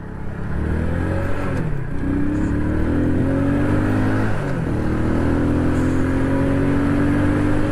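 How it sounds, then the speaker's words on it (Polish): A tuned Romet WS50 49cc moped engine revs up hard, its buzzing note rising, dropping at each gear change and climbing again, loud and close throughout. "WS50 przyspiesza bez żadnego problemu"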